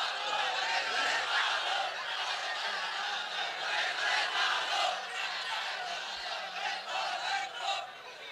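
A crowd at a religious sermon chants slogans together, the massed voices loud and continuous with rising and falling swells and some scattered laughter.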